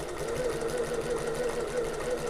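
A sewing machine topstitches along a fabric edge of an open top tote, its steady mechanical whirr running close and continuous with no talk.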